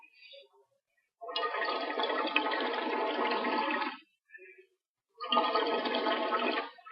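Water in a hookah base bubbles in two long bursts as smoke is drawn, a close, gurgling churn with brief quiet gaps between draws.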